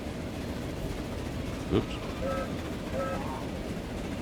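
A train horn in the Transport Fever 2 video game gives two short hoots over a steady low rumble of game ambience, with a brief spoken word just before.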